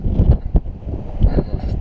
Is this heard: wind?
yes